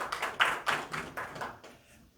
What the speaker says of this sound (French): Monsieur Tekete, pour un mot, je vous demande de l'applaudir